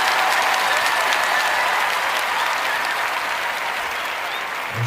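A live studio audience applauds, a dense, steady wash of many hands clapping that holds loud throughout and eases slightly toward the end.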